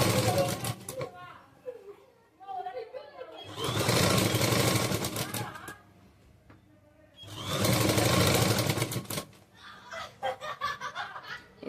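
A sewing machine stitches saree fabric being made into a churidar in two long loud bursts of rapid whirring, with quieter stretches between where someone talks.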